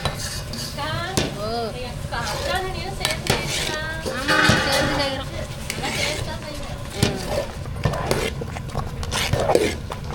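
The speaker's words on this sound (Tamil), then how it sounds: "என்ன நடக்குது ஒரே கிண்டல் தான்" Utensils scrape and clatter against a pot as kesari is stirred over an outdoor fire in heavy rain, with a soft sizzle beneath and people talking over the steady stirring.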